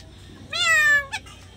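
A cat meows once, a clear drawn-out call close by, followed by a short second chirp-like meow in a quiet room.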